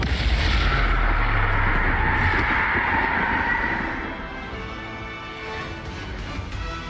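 Bombarda and Confringo explosion spells cast in Hogwarts Legacy, a loud, booming blast that rumbles on for about four seconds before easing into a softer, lingering roar, with no voices.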